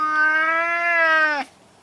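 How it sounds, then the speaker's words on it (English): A male cat lets out one long, loud, drawn-out meow close by, cut off abruptly near the end, with no talking. "He's meowing and hissing."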